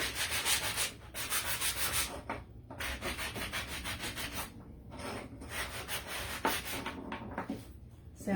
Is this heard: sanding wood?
yes